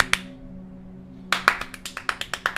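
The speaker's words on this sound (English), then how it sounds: "The fastest clap in the world." Rapid hand clapping in a quick burst of about a dozen sharp claps, close and crisp, following a single earlier clap over a low steady hum.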